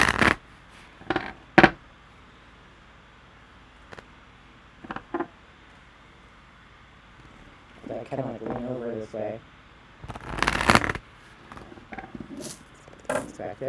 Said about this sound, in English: So you can see me shuffling.